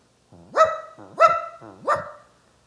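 A man vocally imitates a dog barking inside a Subway restaurant, giving three loud, close, evenly spaced woofs with pauses between them.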